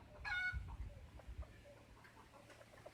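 A red junglefowl rooster in Luang Prabang gives a short, clucking call near the start, then low scratchy rustling and faint bird sounds follow in a quiet outdoor setting.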